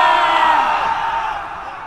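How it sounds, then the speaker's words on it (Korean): A crowd of soldiers cheers and whoops in a broad, loud roar that slowly fades over two seconds, used as a battle sound effect in a Korean audiobook about the Gaya army attacking Silla. "모든 병사들이 환호했습니다"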